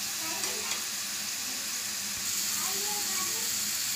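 Bitter gourd frying in oil, a constant soft crackling sizzle with faint bubbling, steady throughout and fairly quiet, with a voice murmuring faintly in the background.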